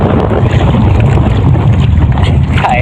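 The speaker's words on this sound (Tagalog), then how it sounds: "Pakalakas ng hangin, amihan." Strong amihan wind buffets a small boat at sea during a spearfishing trip, a loud continuous roar of wind against the microphone with low rumbling water beneath it.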